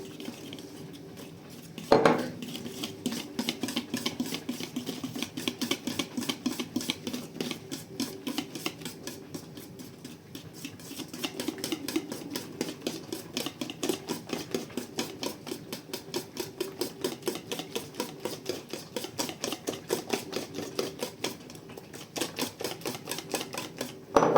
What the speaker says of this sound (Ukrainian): Треба бігом збивати, щоб не зварилося